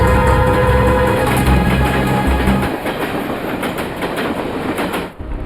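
A train runs on rails, a loud, steady rumble with rhythmic clickety-clack that thins out toward the end before cutting off.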